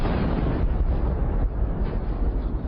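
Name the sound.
explosion of armored vehicle ammunition after drone strike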